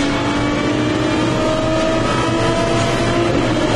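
Race cars at the 2004 FIA GT Championship round in Dubai, a continuous loud engine roar with a steady high whine, sustained throughout without a break.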